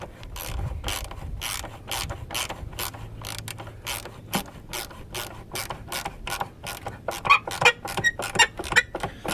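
Ratchet turning a 10mm deep well socket on the battery hold-down of a 2007 Honda CR-V, a close series of quick clicking ratchet bursts in uneven rhythm with light metallic rattles, no talking.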